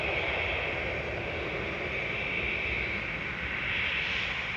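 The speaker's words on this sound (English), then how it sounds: "TUI 2668 to Palma de Mallorca departing that. It's a 737-800 GFDZD." A TUI Boeing 737-800 departs toward Palma de Mallorca from Manchester, heard as a steady, fairly faint jet roar with a hissing engine whine, unbroken for a few seconds.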